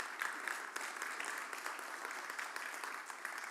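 A TEDx audience applauds in a hall, even sustained clapping from many hands, fairly soft and distant with no voices over it.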